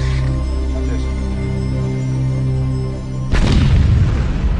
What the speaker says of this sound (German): Mehr als eine Tonne Sprengstoff sind tief im Boden versenkt.